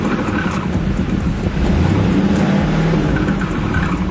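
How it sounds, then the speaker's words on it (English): An older car engine with an exhaust leak revs once. The note rises and swells to a rough, loud drone midway through and holds steady, with wind buffeting the microphone. "I'm gonna give you guys a rev real quick so you can hear the exhaust leak up there."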